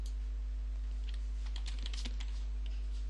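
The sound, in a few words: typing on a computer keyboard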